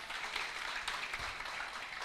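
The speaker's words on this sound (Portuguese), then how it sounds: "Dê uma salva de palmas para esse louvor maravilhoso." A church congregation applauds after a worship song, a soft, fairly distant patter of many hands clapping steadily throughout, with no one speaking.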